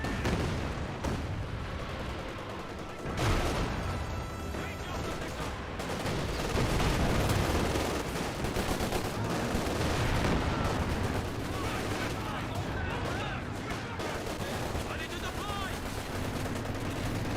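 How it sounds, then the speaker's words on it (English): Katyusha rocket barrage in the World War II strategy game Company of Heroes 2, a long rumbling stretch of launches and impacts blending into gunfire and booms, with a voice commentating over the battle noise. "Do now have a Katusha Barrage in this region, getting some good damage."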